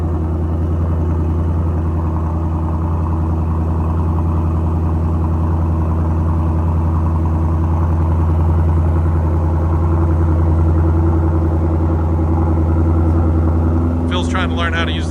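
A 2024 Ford Mustang GT fitted with a Stainless Works Legend active exhaust idles in its quietest mode, a steady deep low rumble close by, with faint talk over it and a short clatter near the end.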